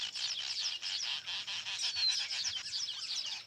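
A busy colony of male weaver birds chatters and chirps nonstop in a dense, bright, overlapping chorus, fairly close and steady throughout.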